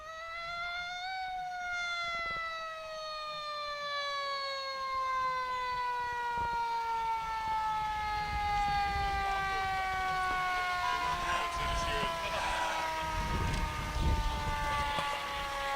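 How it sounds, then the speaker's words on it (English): Fire truck sirens wail at a Veterans Day parade, a loud, steady, gliding tone that slowly falls in pitch, with a crowd and street noise underneath. "It's hard to compete with sirens, you know."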